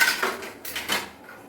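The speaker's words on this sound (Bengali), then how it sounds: "ভাজা চিনিবাদাম আরেকবার আমি একটুখানি ভেজে নিই" Fried peanuts tossed briefly in a pan, a few quick metallic scrapes and rattles up close over about a second and a half, no speech.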